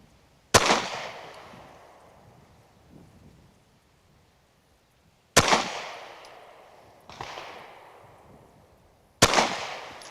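Pistol shots fired weak-handed at soda cans from five yards crack sharply, several spaced-out reports with short decaying echoes between them, loud and close, no talk.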